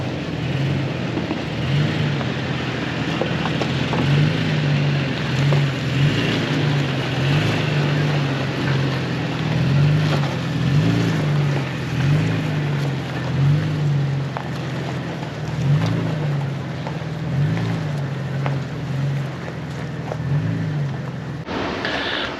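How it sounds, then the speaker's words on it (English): A 2022 Toyota Tundra TRD Pro climbs an off-road hill in crawl control, its engine droning steadily with a rhythmic, pulsing low chug throughout. "So the high speed, I'm gonna take it down to medium. And then we're gonna go up this hill."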